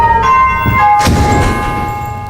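A doorbell chime rings out with sustained bell-like tones, followed by a loud burst and ringing decay, fairly close and clear.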